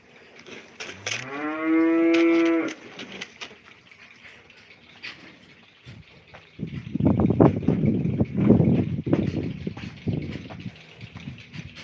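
Cows in a barn at milking time give a loud, drawn-out moo close by, then a stretch of quieter barn noise, then a longer run of low, rough lowing and bellowing.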